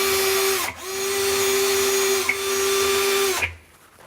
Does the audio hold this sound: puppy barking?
no